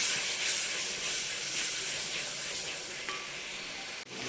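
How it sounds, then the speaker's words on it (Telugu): Ginger garlic paste fries in a pan, giving a steady soft sizzling hiss that stays even throughout with a brief dip near the end. "అల్లం వెల్లుల్లి పేస్ట్ కూడా చక్కగా ఎర్రగా వేగాలి."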